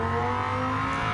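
A Dodge Viper's engine in Gran Turismo 7, held at a loud, steady high-revving drone with strong even tones throughout, close and continuous with no talk.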